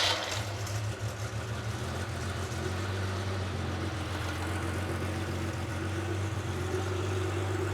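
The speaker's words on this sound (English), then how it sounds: "when I cranked it, the engine just started" An engine fitted with PMO induction EFI and an Emtron standalone ECU runs at a steady idle, a low, even rumble with a slight shift in tone early on; close and moderately loud with no talking.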